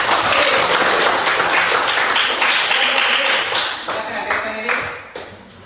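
A classroom of students claps together in a dense, loud burst that holds steady for several seconds, then thins out and fades toward the end.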